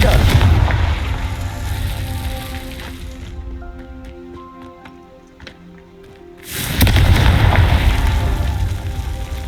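Fire-blast spell explosions in Hogwarts Legacy: loud booming blasts open the clip, give way to a quieter stretch of ringing tones, then erupt again loudly near the end.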